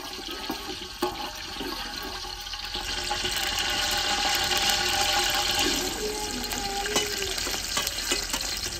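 Onions fry with whole garam masala of black pepper, cloves and black cardamom, giving a loud, watery sizzle that swells midway, with scattered stirring clinks up close and no voices.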